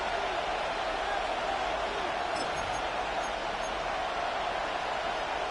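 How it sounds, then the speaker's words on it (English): Stadium crowd roar in the Madden NFL 26 football video game, a continuous dense wash of cheering that holds at an even level throughout. "The crowd making their presence felt."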